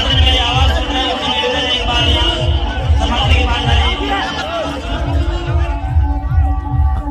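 A huge crowd of devotees gathers at Baba Prahlad Puri's samadhi and final procession in Karansar, Jaipur, Rajasthan, making a dense, close hubbub of many voices with overlapping chatter and calls throughout.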